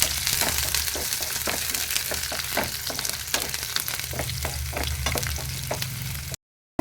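Chopped ginger and garlic fry in a pan, giving a steady soft sizzle broken by frequent crackles and stirring scrapes. It carries on alone at low volume and stops abruptly near the end.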